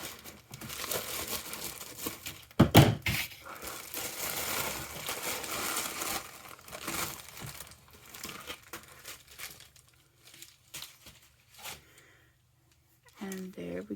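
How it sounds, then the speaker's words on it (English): Fountain pen packaging is cut open with scissors, giving close crinkling, snipping and rustling with a sharp crackle early on, fading into quieter handling noises near the end. "I'm just going to use my scissors."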